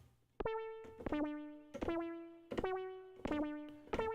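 Synthesizer notes from a Jomox T-Resonator play one after another, each ringing out with a lingering reverberant tail that blurs into the next.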